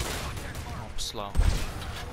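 Gunfire in the video game Predator: Hunting Grounds, a short burst of shots over game ambience and other noise.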